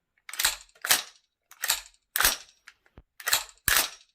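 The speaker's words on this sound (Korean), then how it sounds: "또 하나 장전하는 소리가 정말 찰집니다" VFC SR25 gas blowback airsoft rifle being cocked: six or seven crisp, sharp metallic clacks and snaps in quick succession, close and loud, with no talking.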